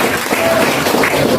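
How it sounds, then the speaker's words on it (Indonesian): Audience applause at a Pemuda Batak Bersatu regional working meeting in Jakarta: a dense, steady wash of many hands clapping, fairly loud, with faint voices mixed in. "Tepuk tangan dong untuk PBB."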